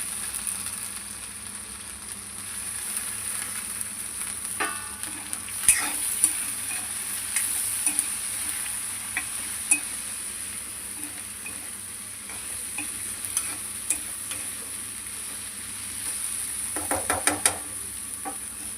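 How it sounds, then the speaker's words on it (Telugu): Fenugreek leaves fry with roasted peanuts in a pan, giving a soft, steady sizzle. Occasional light scraping clicks of stirring come through, and the whole sound is fairly quiet and close. "కొద్దిసేపు ఈ మెంతి కూడా మగ్గనిద్దాం"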